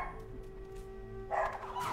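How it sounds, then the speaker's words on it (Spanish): A dog barks outdoors a few times, heard faintly and at a distance over a quiet steady background hum, with a louder burst of barking near the end. "el perro que tenemos acá afuera está ladrando muchísimo"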